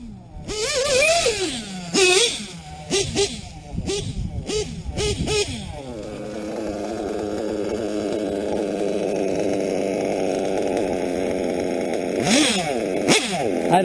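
A Nova chainsaw, still not broken in, idles low with a steady close engine drone, after a stretch of whistles and hooting sounds that come before it.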